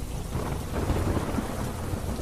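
Rain pours steadily over a Gondal village with low thunder rumbling beneath, a dense, loud wash of sound with no voices.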